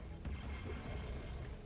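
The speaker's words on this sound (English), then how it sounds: "Blunt cleanup with these cannon shots." Cannon shots fire in a real-time strategy game match, heard as dense, rumbling booms and thuds packed into a continuous low roar of battle.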